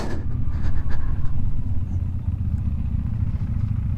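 A KTM 390 motorcycle rides along with a steady low engine drone and a fluttering rumble, near and continuous, with no talk over it.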